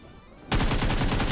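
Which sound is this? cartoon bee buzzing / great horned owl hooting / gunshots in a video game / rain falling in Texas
gunshots in a video game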